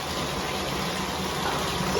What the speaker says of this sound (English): now she's in her bath to wash off the salt water